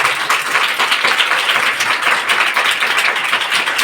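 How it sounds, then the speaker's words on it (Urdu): A church congregation claps steadily for several seconds. The applause is loud, dense and even, with no speech over it. "آئیے ایسے خدا کے لیے زوردار تالیاں بجائیں۔"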